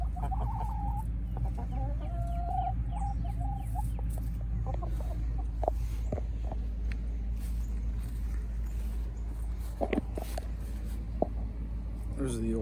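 Older chickens on a small farm cluck in a busy, overlapping chorus, with a few louder calls breaking through near the end over a steady low hum.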